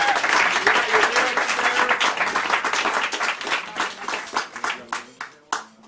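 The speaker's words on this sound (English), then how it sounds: "Give us a round of applause." Audience applause at an intimate songwriters' concert: dense clapping at first that thins out into scattered, individual claps and fades to a few last hands.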